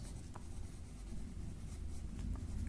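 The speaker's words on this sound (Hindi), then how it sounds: "यहाँ मैं लिख दे रहा हूँ ऑर्थोक्लेज प्लस" Writing on a board during a Hindi-language geology lecture on igneous rock textures: a steady, close scratching of strokes over a low room hum, with no talking.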